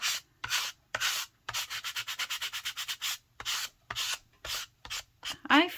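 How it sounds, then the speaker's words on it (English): A small portrait painting's edge is sanded by hand while making a miniature, giving a run of close, dry rasping strokes, a few long sweeps, then a quick burst of short rhythmic rubs, with no talk. "very relaxing, doing the sanding"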